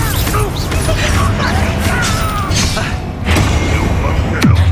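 Bombarda and Arresto Momentum spells cast in Hogwarts Legacy burst out as booms, thuds and crashing impacts over a rumbling game background, with a rising whoosh near the end.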